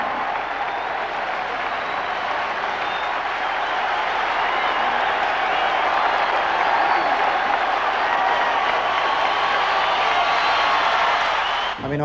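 A stadium crowd cheers and applauds a world-record mile run, a dense, loud, unbroken roar of clapping and shouting that holds steady throughout and drops off sharply at the very end.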